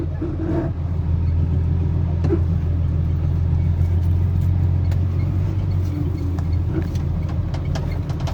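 A turbocharged car engine idles steadily with a deep, even rumble and a faint whine above it, close and continuous, with a few brief clicks and knocks over the drone.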